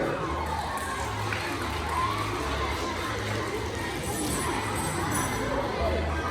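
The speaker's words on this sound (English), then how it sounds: "Give me an applause for Julian" A large crowd cheers and claps loudly, a dense, continuous roar of voices and applause that holds steady throughout.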